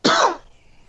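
A single short, harsh cough, close and loud, quickly fading into quiet.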